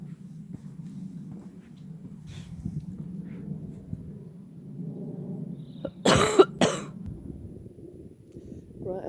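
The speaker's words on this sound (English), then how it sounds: "I've got a bit of a coughing and spluttering" A few loud, harsh coughs burst out close by, following a long stretch of low background rumble and faint murmuring.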